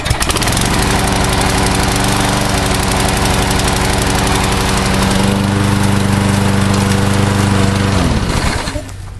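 A push lawn mower engine runs after being started, a loud, close, steady chugging drone that holds for several seconds, shifts slightly in pitch midway, then dies away near the end.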